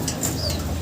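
Racing pigeons beat their wings inside a loft, a quick, close flurry of flapping lasting under a second, with soft cooing murmurs in the background.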